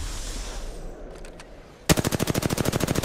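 After a quiet stretch with a few faint clicks, a fast machine-gun burst starts abruptly in a video game battle, evenly spaced, loud, close shots rattling until the end.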